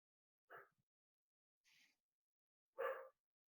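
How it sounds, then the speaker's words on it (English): A dog gives a few short, quiet barks spaced apart with silence between them, sounding faint and somewhat distant, with no voices. "As my dog barks."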